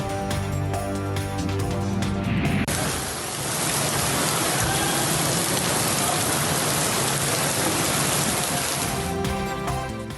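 Steady rain falls in the first downpour of the summer season, a dense broadband hiss that swells in after a few seconds and holds evenly loud throughout, with no voices.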